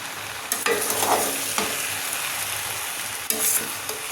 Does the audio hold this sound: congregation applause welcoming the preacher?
no